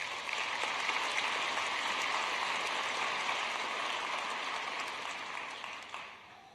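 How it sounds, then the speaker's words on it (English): An audience at a university commencement ceremony gives steady applause, a dense even wash of clapping that holds for several seconds and then fades out at the end, with no talking. "Please give them a round of applause."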